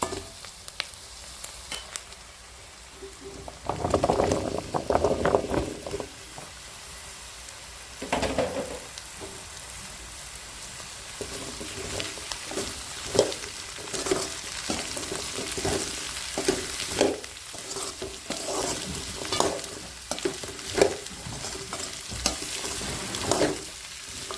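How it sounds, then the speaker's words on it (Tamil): Onions and chillies sautéing in a pan for yellow pumpkin stir-fry, a steady close sizzle broken by repeated bursts of spatula stirring and scraping, with no voices. "பார்த்தீங்கன்னா வெங்காயம் இந்த அளவுக்கு வதங்கிடுச்சு"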